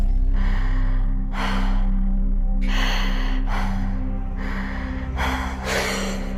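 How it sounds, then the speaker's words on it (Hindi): Heavy, rhythmic breathing, slow loud inhales and exhales close to the ear, over a low steady hum. "उसे किसी की सांसें सुनाई दे रही थी।"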